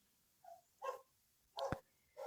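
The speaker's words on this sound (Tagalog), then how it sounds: "pasensya na sa ingay ng aso" A dog gives four short barks at a moderate distance, spaced irregularly over a couple of seconds against a quiet background.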